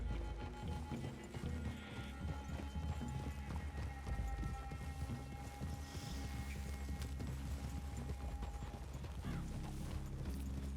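Horses walk in Red Dead Redemption 2, their hooves clip-clopping steadily with an occasional whinny over a low game ambience and soft background music.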